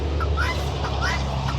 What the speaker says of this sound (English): over there is the guinea hen. That making their noise.